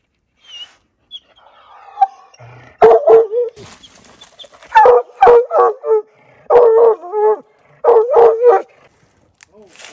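A Black and Tan coonhound bays at a treed raccoon in clusters of loud, drawn-out howling bawls, repeated in bursts with short pauses, close and clear in an otherwise quiet outdoor setting.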